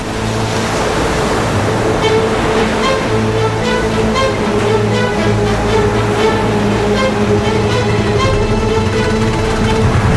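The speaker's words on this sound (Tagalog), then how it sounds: "Pero malakas yung alon. Talagang winawasiwas yung aming boat." Strong ocean waves rock a boat at sea off Pamilacan, a steady, loud churning roar of water with a low engine-like hum running underneath throughout.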